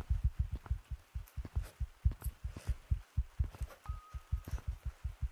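A pounding heartbeat effect from the Gorilla Tag video game thumps in a fast, steady, heavy rhythm, loud and close, with no talking over it.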